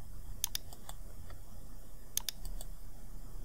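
A few sharp, close computer keyboard key presses in two small clusters while working in Word, light clicks separated by quiet pauses.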